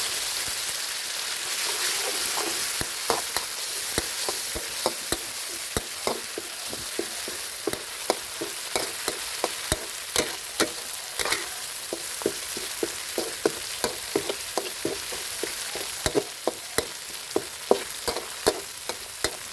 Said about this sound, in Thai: ต่อจากนั้นก็ให้ใส่พริกกับกระเทียมที่เราตำรวมกันนะครับ ลงมาผัดให้หอมเลยครับ